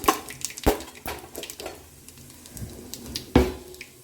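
Garlic, cumin and mustard seeds frying in hot oil, a light crackling sizzle broken by sharp pops and spatters at irregular intervals, close up.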